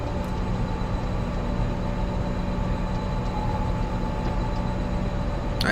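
Conrail coal drag freight train in Train Simulator 2020 heading to Gallitzin, a steady, continuous low rumble of rolling wagons and engine drone throughout with no pauses, alone without talk.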